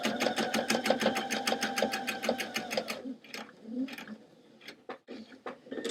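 A sewing machine stitches around a square on thrifted jeans in a rapid, even burst of needle strokes lasting about three seconds, then stops, followed by a few faint clicks and handling sounds.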